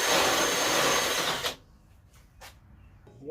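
A power drill whirs loudly for about a second and a half while working on a custom off-road lawn tractor, then stops, leaving faint clicks and handling noises.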